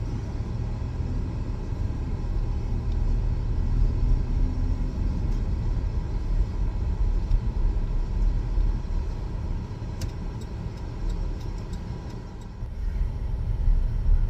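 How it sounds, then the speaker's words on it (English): A Buick car drives along the road, heard from inside the cabin as a constant low rumble of engine and tires with a few faint clicks and a brief dip near the end. "we're just driving around getting it to cool off in here a little bit"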